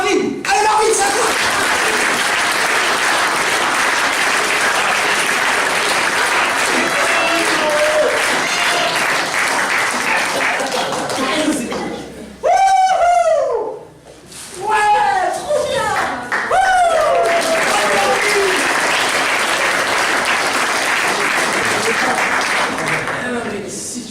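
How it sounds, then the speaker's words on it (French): A studio audience applauds a contestant, steady dense clapping filling most of the stretch, briefly dipping while loud cheers and whoops rise, then resuming under a voice. "On applaudit tous Marvin."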